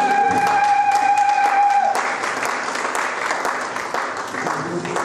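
A church congregation applauds and cheers to acclaim the Lord, with loud, dense clapping and mixed voices that burst in after a sustained held note and keep going steadily to the end.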